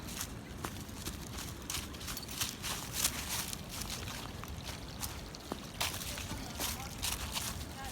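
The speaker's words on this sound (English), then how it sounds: "we're going to dip down here and go across this creek bed here" Footsteps cross a rocky creek bed on a hiking trail, an irregular run of crunching, scuffing steps with faint splashes over steady outdoor noise.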